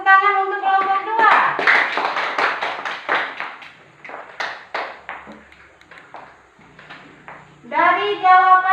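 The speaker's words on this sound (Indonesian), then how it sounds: "Mari kita tepuk tangan untuk kelompok 2." A classroom of students claps for a student group, a burst of brisk, close hand clapping that thins out over several seconds. Children's voices come just before and after it.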